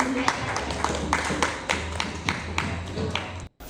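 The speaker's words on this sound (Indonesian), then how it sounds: "Tepuk tangannya mana?" Clapping from an audience at a Javanese wayang kulit (shadow puppet) art performance, a loose rhythm of sharp claps with a sustained low hum beneath, fairly close and steady before cutting out briefly at the end.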